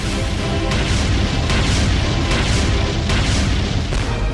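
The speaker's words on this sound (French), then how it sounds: "les galéas déclenchent un déluge de feu qui détruit près d'un tiers de la flotte ennemie en quelques minutes" Heavy cannon fire from galleasses in a naval battle between Ottoman and Christian fleets, a loud continuous barrage of deep booms with sharp individual blasts cracking through roughly every second.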